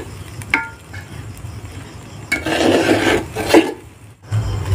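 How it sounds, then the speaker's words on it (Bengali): Rice being sautéed in a pan while making khichuri, giving a dry scraping, rasping stir in bursts of rough, close friction with quieter pauses between strokes. "আর এই যে তোমার দাদা ভালো করে চালটা দিয়ে এখন কষছে।"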